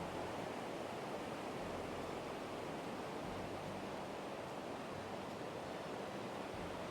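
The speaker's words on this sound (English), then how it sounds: "You can hear the little waterfall right up ahead." Small river whitewater rapids along a jungle nature trail in Khao Sok National Park, Thailand, giving a steady, even rushing roar with no pauses and no voices.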